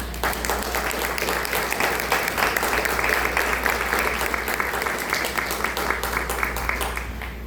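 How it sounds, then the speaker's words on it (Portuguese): A church congregation claps together in a sustained round of applause during a worship service, even dense clapping throughout that fades slightly at the end, with no one speaking over it. "dá uma linda salva de palmas para o Senhor"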